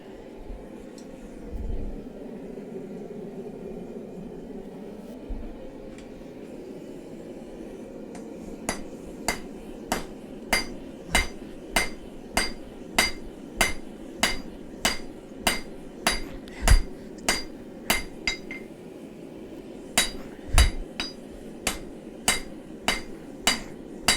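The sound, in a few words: hammer forging a karambit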